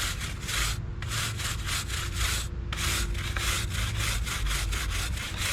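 Brisk, steady scrubbing of a wet brush over the plastic grill of an early-1970s Kmart box fan, a continuous rhythmic rasp of close back-and-forth strokes with two brief pauses.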